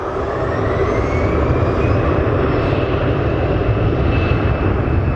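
A loud, steady jet roar fills the whole stretch, a low broadband rumble with a faint rising whine above it, as a plane passes close overhead.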